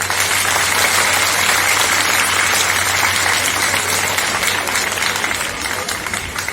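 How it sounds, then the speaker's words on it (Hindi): Loud, sustained applause from a large crowd, continuous and even throughout before easing slightly near the end. "हिंदी भाषा के सम्मान में एक बार जोर से ताली बजाई जाए"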